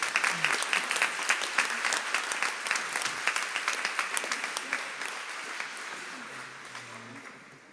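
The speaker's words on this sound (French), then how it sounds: "Je veux l'applaudir." A radio team applauds Claire, a room of people clapping steadily and fairly close, the claps thinning and fading toward the end.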